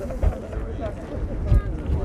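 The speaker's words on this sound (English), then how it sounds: "It's so windy right at the edge." Strong wind buffets the microphone at the edge of a high cliff overlooking Horseshoe Bend in Arizona, with low rumbling gusts swelling and easing throughout, loudest in two bursts, while people talk over it.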